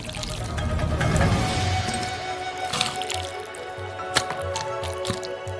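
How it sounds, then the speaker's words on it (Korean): Noodle soup being ladled and poured from a pot into a bowl, with soft liquid pouring and splashing early, then scattered drips, clinks and light knocks at close range, no talking. "그릇으로 옮겨 담아요."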